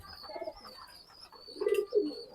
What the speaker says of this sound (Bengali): এই যে কবুতরগুলো